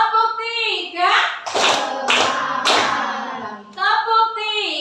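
A school class claps together in a teacher-led clapping game: three sharp, evenly spaced group claps land between stretches of an adult voice speaking.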